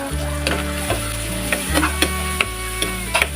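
Tomatoes and ground pork sauté in a pan for ginisang pechay, a steady close sizzle of frying with repeated clinks and scrapes of a utensil stirring throughout, no voices.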